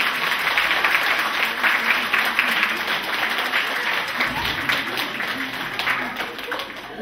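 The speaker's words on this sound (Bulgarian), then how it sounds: "много силни аплодисменти" Strong audience applause at a school open lesson marking the 140th anniversary of the April Uprising, a dense, sustained burst of many hands clapping with some crowd voices mixed in.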